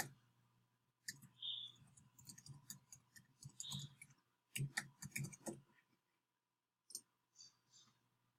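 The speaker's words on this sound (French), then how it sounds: "donc j'écris mon adresse" Quiet keystrokes on a computer keyboard as an email address is entered at a login prompt, an uneven run of soft clicks in short bursts with a brief pause before a final few taps.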